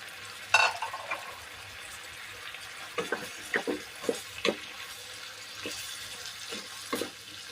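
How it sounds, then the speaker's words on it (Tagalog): Snow peas go into a pan of cooking squid adobo, bringing a soft, steady sizzle under a few scattered clanks and scrapes of stirring, fairly quiet and close, with no voices. "Lagay na natin yung chicharo natin guys."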